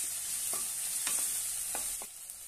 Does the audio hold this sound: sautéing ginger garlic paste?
yes